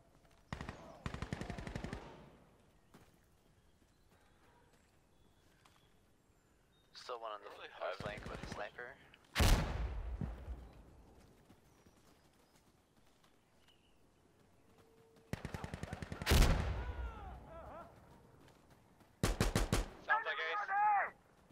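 Gunfire in the tactical shooter Insurgency Sandstorm comes in four sharp automatic bursts spread across the stretch, loud and close, with quiet gaps between them and some voices mixed in.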